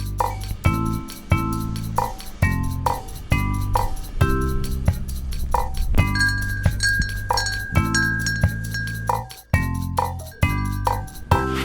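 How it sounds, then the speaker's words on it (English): Small glass marbles clink and tinkle as they are handled and set around the tops of a homemade flower cabinet, giving repeated bright ringing taps in an uneven rhythm, close and fairly loud. "I put some of the glass things around the tops and little glass marbly things."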